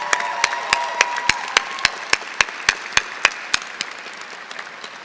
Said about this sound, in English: let's take a minute and give a round of applause to your family and your friends and your support system